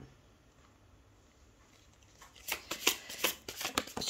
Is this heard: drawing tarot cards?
yes